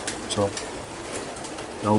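Racing pigeons coo inside a loft, two soft, low, throaty calls spaced apart. They are close and clear and sound over a quiet, steady room hum.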